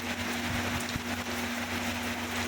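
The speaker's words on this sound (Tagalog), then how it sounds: "umuulan na naman sa pisto" Steady rain patters and hisses across the whole stretch, with a faint constant low hum underneath and no talking.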